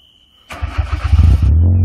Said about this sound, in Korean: 또 배기음 한번 들어봐야죠